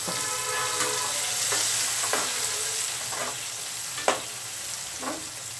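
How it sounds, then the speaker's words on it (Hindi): Boiled chickpeas are mixed into frying masala for chana masala, giving a constant close sizzle broken by several spoon scrapes and one sharp clink against the pan. "उसके बाद ये छोले उसमें डाल देंगे और इसको अच्छे से मिलाएंगे।"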